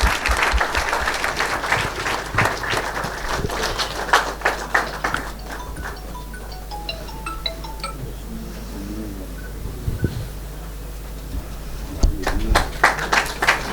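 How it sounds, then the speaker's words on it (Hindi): An audience at a Rajasthan Lalit Kala Akademi award ceremony claps to welcome a fresco artist, a busy patter that thins in the middle, with some voices and a brief tonal sound, then rises again near the end. "जोरदार तालियों से स्वागत कीजिए।"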